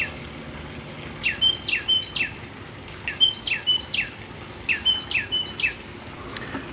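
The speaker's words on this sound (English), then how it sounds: "I don't know what kind of bird that is, but it sounds very pretty." A bird sings outdoors near a home garden in three repeated bursts of bright, sweeping whistled notes, loud and clear over a quiet background.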